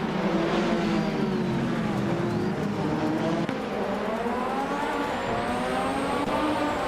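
Race cars roar around Batanga Circuit in a racing video game, including a 1988 McLaren MP444, with a steady dense engine drone and whining gear shifts over constant game music and commentary.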